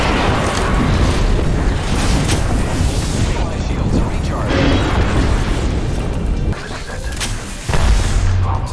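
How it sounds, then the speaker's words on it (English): Airstrike in the battle royale game Apex Legends, a continuous barrage of heavy booming explosions that blend into a loud, dense roar lasting throughout, with players' voices talking over it. "Calling the airstrike."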